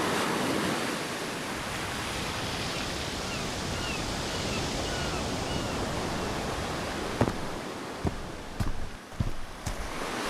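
Ocean surf rolls onto a wilderness beach on the Olympic Peninsula, a steady broad wash of breaking waves, loud and continuous, with a few sharp knocks near the end.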